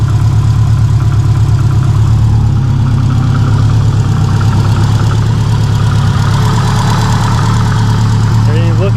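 A BBR 700 car engine idling just after its first start, a loud, steady low rumble with a slightly uneven pulse, continuous throughout, while someone talks over it.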